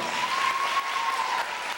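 A crowd claps steadily and evenly for a couple of seconds at a school assembly, a dense patter of applause with no voices.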